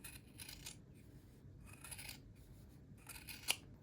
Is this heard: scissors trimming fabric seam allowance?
yes